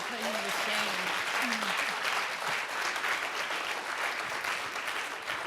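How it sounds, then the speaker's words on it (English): An audience at an artists' gathering breaks into sustained applause, a dense, even patter of many hands lasting several seconds, with brief voices audible over it at the start. "Give him a round of applause."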